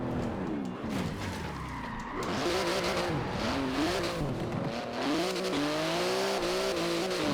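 A 3.8-litre twin-turbo flat-six race car engine making 700 horsepower in Forza Horizon 4, revving and shifting with rising and falling pitch under squealing, skidding tyres, loud and close throughout.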